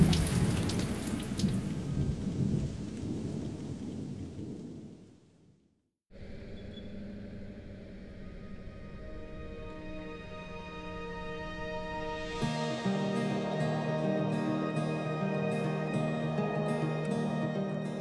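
Steady rain falling at an outback camp with low rumbles, cutting briefly to near silence before the rain noise resumes, joined later by faint tonal sounds.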